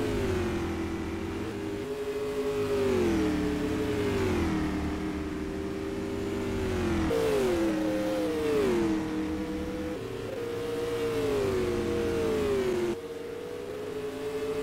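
Race cars in a heat race of the Show Me State 50 roar around an oval track, engines rising and falling in pitch as they accelerate out of turns and pass. Several cars overlap, loud and continuous, with no talk.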